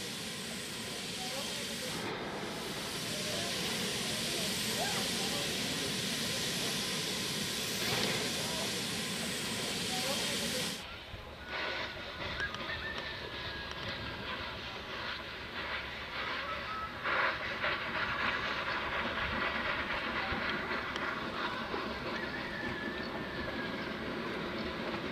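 A steam train with a helper locomotive departs Nefersit station on Eritrea's mountain railway, rumbling and hissing loudly, with a heavy rush of steam that cuts off partway through, followed by steady chugging and rail noise.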